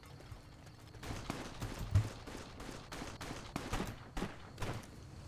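Rapid gunfire bursts in the Fallout Tale of Two Wastelands game, a run of sharp shots spread across the clip over a low rumbling background, moderately loud with no talking.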